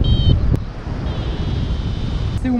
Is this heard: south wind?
yes